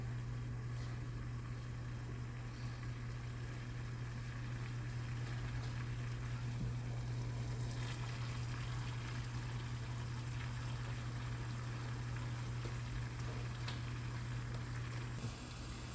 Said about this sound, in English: Let's wait for the water to boil nicely.